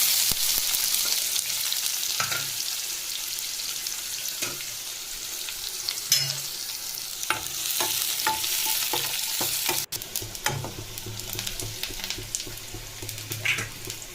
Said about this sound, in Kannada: ಈರುಳ್ಳಿ ಹಾಕಿ ಬೇಯಿಸ್ಕೊಂಡು ಸಾಂಬಾರ್ಗೆ ಒಗ್ಗರಣೆ ಕೊಡೋದು.